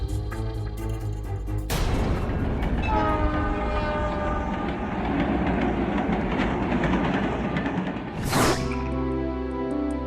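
A train horn sounds loudly at a railway crossing, a long sustained blast from about two seconds to past eight, with the steady rumble of the passing train around it and no one talking.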